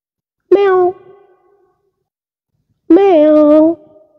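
A person's voice imitates a cat meowing twice, each a drawn-out, tonal meow about a second long, loud and close, separated by a pause of silence.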